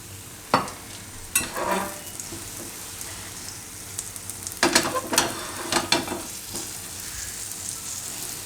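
Palak besan pudla, a spinach and gram-flour pancake, frying in a pan, giving a soft steady sizzle with scattered louder crackles and spatters, close by and without talk.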